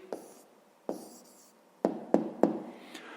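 Pen writing an answer on paper during a fifth-grade maths exercise: a few soft, separate scratchy strokes and taps close by, with quiet gaps between them and no talking.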